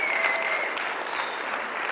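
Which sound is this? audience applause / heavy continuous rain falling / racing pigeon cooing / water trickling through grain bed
audience applause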